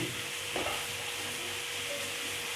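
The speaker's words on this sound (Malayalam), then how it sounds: "കുറച്ച് ജിഞ്ചർ ഗാർലിക് പേസ്റ്റ് ഇത്രയിട്ട് നമുക്കൊന്ന് വഴറ്റിടുക" An onion, tomato and chili powder sauté for a Kerala-style prawn roast sizzles steadily in a pan, with one soft stirring scrape near the start.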